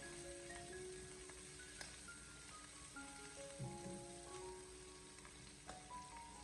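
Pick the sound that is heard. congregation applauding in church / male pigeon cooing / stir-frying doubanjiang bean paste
stir-frying doubanjiang bean paste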